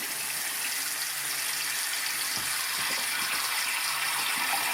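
Hot water gushes steadily down a clogged drain, a continuous close, bright rushing wash with a few low gurgles near the end and no talking.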